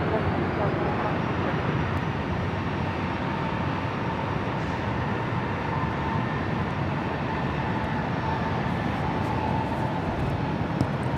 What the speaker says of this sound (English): That was United Express coming in from Boise and that E175